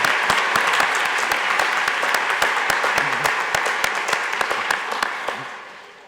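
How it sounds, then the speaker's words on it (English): A packed audience at the Baylor Law fall 2019 commencement breaks into dense, steady applause that holds loud and even for about five seconds before tapering off at the end. "Well, a little applause."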